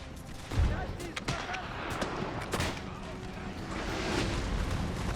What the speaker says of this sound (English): Well, they're firing into us.